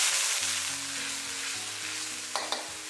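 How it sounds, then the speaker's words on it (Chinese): Salt and chicken essence are stirred into a hot wok while stir-frying bitter melon, with a steady soft sizzle, a low tonal hum in the background and two brief scrape-clatters of the utensil near the end. "再加入1小勺的盐，1丢丢鸡精，然后给它搅动搅动，使调料化开"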